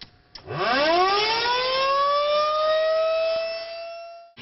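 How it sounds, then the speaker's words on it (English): A civil defense warning siren in Rushford, Minnesota, during a flood, winds up from low to a steady high wail and holds it, loud and unbroken, before fading. "warning sirens blew out throughout Rushford"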